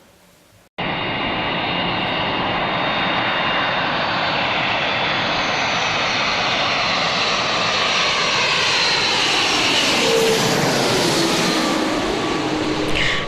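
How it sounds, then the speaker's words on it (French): A Boeing 767 with 231 passengers makes an emergency landing, its aircraft engines roaring loud and steady for the whole stretch, with a sweeping rise and fall in pitch as the jet passes close by. "un Boeing 767 avec 231 passagers à bord a dû effectuer un atterrissage d'urgence"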